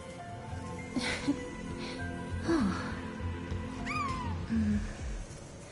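A cat meows repeatedly in the video game Honkai: Star Rail, several short rising and falling calls, one a higher bent cry, heard over soft game music and ambience.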